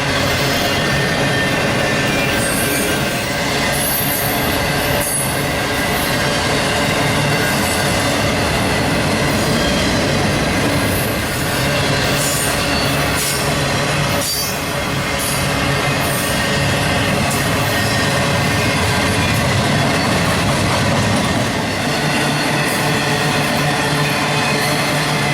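A CSX freight train with engine trouble rolls slowly past Folkston on the A Line, its cars rumbling loudly and continuously with wheel squeal and rhythmic clickety-clack, close by and without voices.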